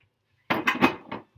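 A pre-sprayed baking pan handled in a home kitchen while assembling shepherd's pie gives a short cluster of close metallic clatters and knocks, about three or four quick contacts within a second, followed by one faint tap.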